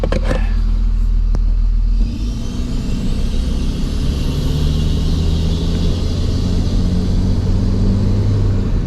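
An old abandoned RV engine runs as the vehicle drives slowly, a low steady rumble with a brief mechanical knock near the start, then continuous droning road and motor noise, fairly loud and close, with no talking.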